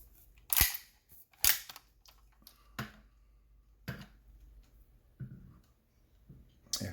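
A Rossi 92 lever-action rifle chambered for .38 Special and .357 Magnum fires about five sharp, separate shots a second or so apart outdoors, with quieter clicks of the lever working between them.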